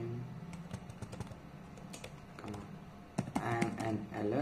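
A computer keyboard clatters as JavaScript code is typed, with quick bursts of key presses, short pauses and a denser, louder run of strokes near the end, alongside some voice.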